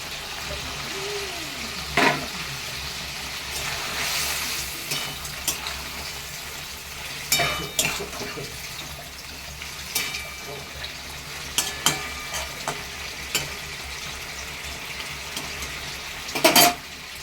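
Small mourala fish cook in a pan for a mustard curry with brinjal, giving a close bubbling sizzle broken by spoon-on-pan clinks and scraping stirs, with louder knocks near the end and no talk.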